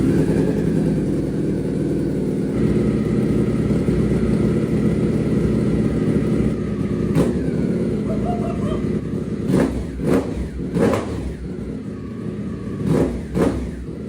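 Ducati V4 Panigale superbike being rebuilt for off-road use, its engine idling loudly and close, then snapped through several sharp throttle blips in quick succession near the end.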